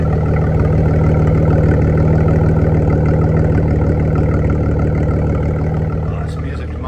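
A 1978 Datsun 280Z 2+2 idles through its exhaust pipes with a loud, steady, deep burble that holds evenly before easing slightly at the end.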